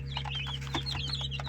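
Young chicks of several mixed breeds, including Australorp and Amrox, cheep in quick, high chirps over a steady low hum, close by and fairly faint.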